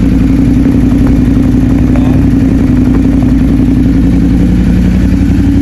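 Close up, a Ducati Multistrada 1200 Enduro with a Termignoni full exhaust idles steadily, its loud, even burble continuing throughout with no speech.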